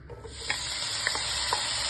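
Smoked pork brisket fries in a dry, preheated pan while being stirred, giving a steady close sizzle with a few sharp scraping clicks.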